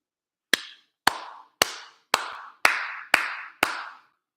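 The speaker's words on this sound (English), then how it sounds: "He gets all kind of applause from me." Seven slow, evenly spaced handclaps from a single person, crisp and close in an otherwise quiet room.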